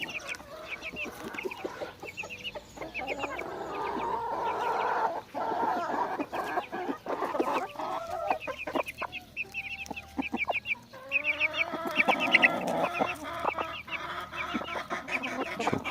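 A flock of hens clucks continuously around a rooster, busy overlapping calls close by outdoors with scratchy farmyard noise.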